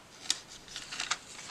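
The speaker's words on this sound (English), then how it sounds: "And so I'm going to cut a narrow strip" Scissors snipping a narrow strip of paper, a few short crisp cuts, close and quiet.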